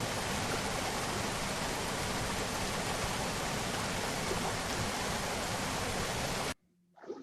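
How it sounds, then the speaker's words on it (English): Steady, dense rain hiss fills the background at an even, loud level for about six and a half seconds, then cuts off abruptly to near silence. "So that's what that noise is. In the background, it's rain."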